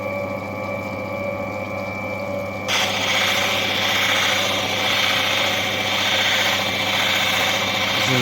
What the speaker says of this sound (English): This is a new machine, these wheels are doing their job very quickly.